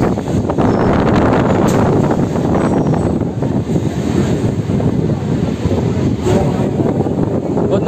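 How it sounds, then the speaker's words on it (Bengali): A Bandel Local train on the Howrah–Bandel line pulls into Rishra station with a loud, steady rumble and a broad roar, buffeted by wind noise throughout. "এটা হলো রিষ্টা স্টেশন, দেখতে পাচ্ছ এখানে ট্রেন ঢুকছে"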